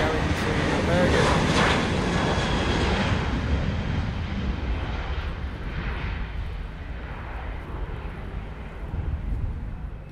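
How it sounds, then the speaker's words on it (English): A KLM Boeing 737-900 jet bound for Bergen at Schiphol roars loudly and steadily with broadband engine noise that swells early and then slowly fades as it moves away. "KLM, Boeing 737-900, and that is going to Bergen."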